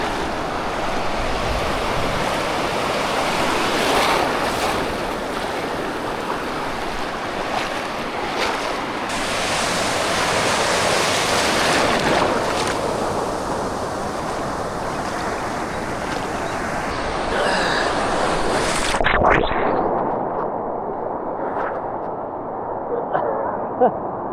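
Ocean waves wash and surge in salt water at King Cove, Alaska, in a loud, steady swash, with wind buffeting the microphone before the sound cuts off near the end.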